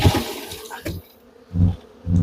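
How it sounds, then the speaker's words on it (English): Honeybees shaken off a hive frame during a rainy-day inspection give low, swelling bursts of buzzing, loud up close, with one early surge and two more heavy pulses near the end. "So what I'm going to do is I'm going to shake the bees off."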